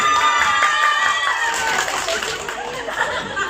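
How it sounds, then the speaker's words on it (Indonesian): An audience at a comedy stage show applauds, a dense wash of clapping mixed with laughter and voices from the crowd, steady and fairly loud throughout. "Tepuk tangan sekali ya, tepuk tangan kita"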